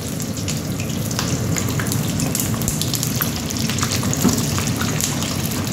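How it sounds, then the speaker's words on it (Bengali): Large chillies frying and charring in hot spattering oil, a dense, steady crackling sizzle close by that runs unbroken throughout, with no voices over it. "মরিচ ভাজা হইতেছে, বড় মরিচ, আর মরিচ পোড়া হইতেছে"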